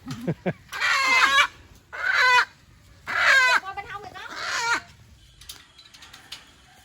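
Chickens cluck and a rooster crows loudly in several bursts, close by, with brief pauses between calls and softer clucking trailing off at the end, in rural Vietnam.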